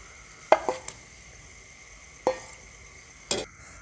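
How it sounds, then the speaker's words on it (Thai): Pork being stir-fried with curry chili paste in a pan for an old-style Thai curry, heard as a low steady sizzle broken by three sharp scraping stirs of the spatula. "เดี๋ยวป้ายุ้ยก็จะเอาหมู ลงไปรวนกับน้ำพริกนะคะ"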